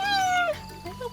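A cheetah in the Sega Genesis game The Lion King gives a single short, high meow with a falling pitch, followed by a faint softer chirp, recorded close and clear.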